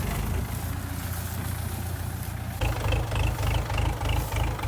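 A tractor engine idles during straw baling work in a field, a steady low rumble that turns into a louder, rhythmic throbbing partway through.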